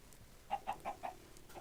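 Chickens cluck in a video game, four quick evenly spaced clucks in a row followed by a fainter one, moderately close over a quiet background.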